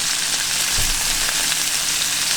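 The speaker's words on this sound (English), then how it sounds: "camera B is recording some fine sizzling action" Beef sizzles in a cast iron pan already greased with bacon fat, a loud, dense, continuous frying hiss close to the microphone, with no talking.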